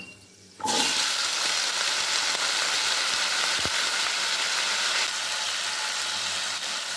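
Potato pieces frying in hot oil for cauliflower singara, a steady broad sizzle starting abruptly as they go in and holding loud and even, with no talk.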